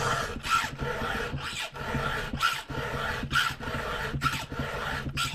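Steady rasping strokes of a file across a chainsaw chain clamped in a vise, each pass a short gritty scrape repeating in an even rhythm, close and fairly loud with no talk.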